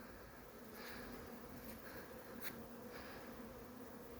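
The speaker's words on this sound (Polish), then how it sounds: "pszczoły pracują, latają jak to ma być dobrze" Honey bees fly around the entrance of a home apiary hive in late October, a faint steady buzzing hum with a few individual bees passing closer.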